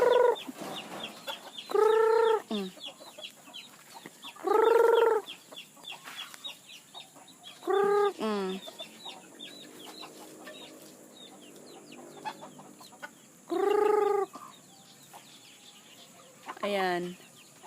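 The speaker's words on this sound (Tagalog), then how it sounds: "yung mga manok" Chickens on a backyard farm make loud, close bursts of clucking and squawking every few seconds, with quieter scratchy sounds and faint background noise between the calls.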